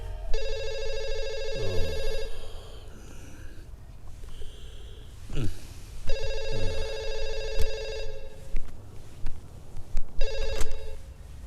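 A telephone rings in loud repeated electronic bursts, about three rings with gaps between them, accompanied by breathing and snorting noises in a comedy film scene.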